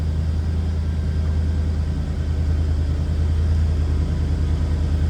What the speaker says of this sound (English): Little rumble coming out of that 350,